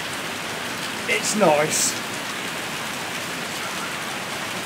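Heavy rain pours down in a steady, broad hiss that runs through the whole scene, while a voice speaks briefly for a moment.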